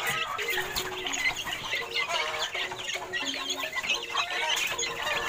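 Several chickens cluck steadily in a busy farmyard, a dense overlapping chorus of clucks and bird calls with no talking.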